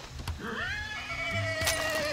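A horse in Far Cry 6 gives a single long, wavering neigh up close, with a few hoof knocks and light thumps around it and no talking.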